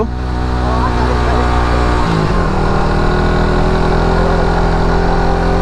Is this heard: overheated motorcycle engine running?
yes